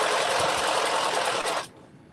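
A sewing machine stitching in a garment sleeve runs in a fast continuous whir for about a second and a half, then stops abruptly, close and alone.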